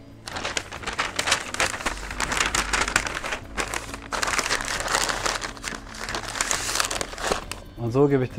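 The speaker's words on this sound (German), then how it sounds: "Ich werde die jetzt gleich rausnehmen und in Papier einwickeln." Smoked Wagyu short ribs are wrapped in paper at a smoker, giving close, loud, continuous crinkling and rustling with brief pauses and a soft thud at the end.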